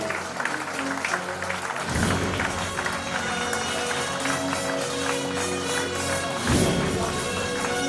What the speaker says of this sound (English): So could we please have applause for the lady coming in.